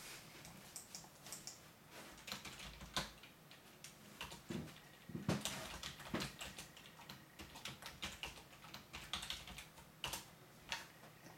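Quiet, uneven keystrokes patter on a computer keyboard as student names are entered one by one, with occasional louder clicks among the soft taps.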